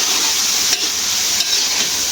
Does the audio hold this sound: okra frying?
yes